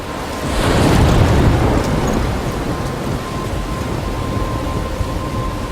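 A thunderstorm with heavy rain in Life Is Strange: a loud, deep roll of thunder swells early and fades, leaving dense, steady rainfall hissing on after it. No one speaks.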